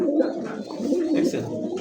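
A Continental pigeon coos close by in a couple of low, warbling calls over a light background murmur.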